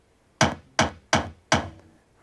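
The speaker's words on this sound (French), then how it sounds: "Donc là on va entendre que 4 coups de kick." Four kick drum sample hits triggered by JavaScript code, sharp punchy thumps spaced evenly and slightly unevenly, each decaying quickly, clear and alone with no talk.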